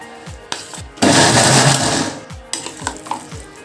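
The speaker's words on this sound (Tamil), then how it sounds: "அந்த மிக்ஸ் பண்ண சாதத்தை மிக்சியில் போட்டு" A kitchen mixer grinder pulses a jar of salted, mixed curd rice: one loud, rough whirring burst of about a second and a half, framed by lighter knocks and clicks before and after.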